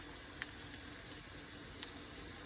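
Onions frying in a pan for a Bengali-style chicken curry give off a steady, low hiss, with a few faint pops and crackles over the sizzle.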